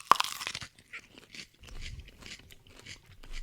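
Close, crisp crunching as a whole raw habanero chilli is bitten and chewed, a sharp initial crunch followed by a series of irregular wet chewing crackles, alone without talk.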